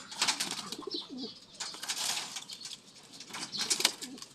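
Pigeons coo in low, throaty bursts amid flurries of flapping wings and scuffling, close and fairly loud, with no talking.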